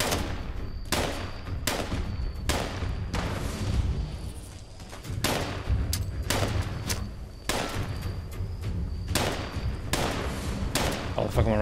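Rapid gunfire from the video game Fallout 76 comes as repeated sharp bursts of shots, some in quick clusters and some spaced apart. The shots are loud and continuous throughout.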